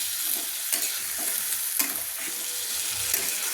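Prawns and onion stalks are stirred in a hot pan, the utensil scraping in several strokes over a steady, close sizzle of frying with no voices.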